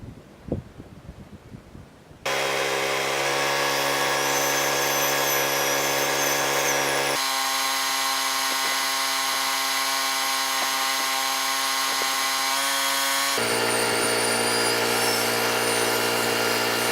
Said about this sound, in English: I drilled all my holes